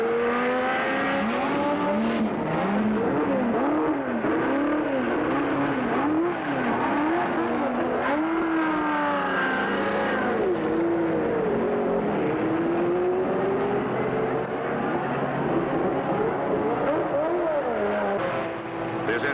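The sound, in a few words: race car engines roaring during a race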